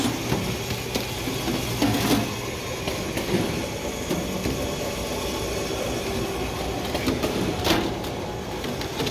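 A CAM Singulator 1LR packaging machine runs granola bars at a Las Vegas show, giving a steady, loud mechanical rattle and hum with intermittent clatter bursts throughout, no voices.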